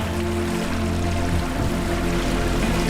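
Steady wash of water and low engine drone from boats on the sea at Komodo Island in Indonesia, a continuous even rumble with lapping water and no voices.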